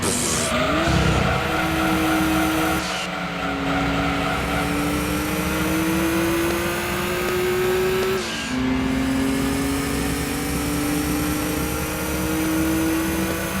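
An all-wheel-drive car in Gran Turismo 2 holds a loud, steady engine drone that climbs in pitch through the gears, with a shift break and tire squeal over it, close and continuous.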